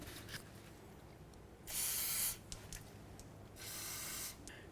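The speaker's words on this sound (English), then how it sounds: "I'm just going to spray down these areas with some penetrant spray." Two short hissing bursts of aerosol penetrant spray on outer tie rod ends of a 2008-12 Chevy Malibu, close by, separated by a brief pause, in an otherwise quiet space.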